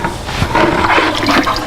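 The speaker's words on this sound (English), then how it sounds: "let's go ahead and pull out these pork pieces out of the brine" Water splashes and sloshes continuously up close as pork pieces are lifted out of a brine bath.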